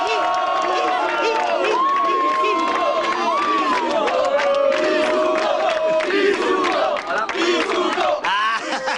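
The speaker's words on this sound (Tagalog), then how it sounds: "Umaapaw din ang kantsawan at sigawan ng mga taga-Pep PH." Studio audience at a comedy show's pick-up lines battle shouting, teasing and cheering in a loud, continuous crowd roar, with voices jeering and whooping throughout.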